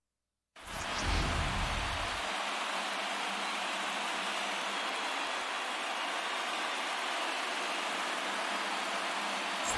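Steady rain ambience at a daytime baseball game in MLB The Show, a constant hiss of falling rain that fades in and holds evenly, with no talking.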